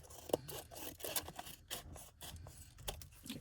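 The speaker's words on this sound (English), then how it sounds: "so now I can go ahead and snip around here" Scissors snip around paper ephemera to trim away the excess, giving a run of quick, close, quiet cuts in an irregular rhythm.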